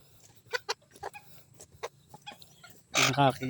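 Bantam chickens cluck in short, separate bursts at close range in a backyard, and a louder, fuller call comes near the end.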